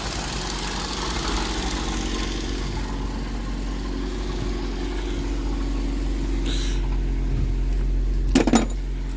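A 2007 Ford Focus engine idles steadily at close range after its aftermarket alarm has been disconnected, with a low, even hum throughout and a brief clatter near the end.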